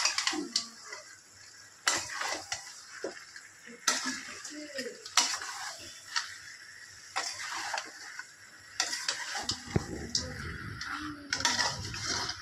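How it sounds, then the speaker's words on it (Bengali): A spatula scrapes and clinks in a pan of fried mutton and potatoes, with repeated sharp metallic taps and scraping strokes at an irregular rhythm, fairly close and moderately loud. "দিয়ে আবার একটু ভালো করে কষাবো সব মাংস আর আলু"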